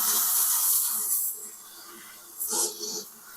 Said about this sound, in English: It's just using steam, so there's not really any smell or anything.